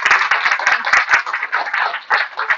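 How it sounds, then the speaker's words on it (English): An audience applauds after a talk, a dense burst of hand clapping that stays close and lively, with its rhythm wavering before it tapers off. "Can we give Rosie another round of applause?"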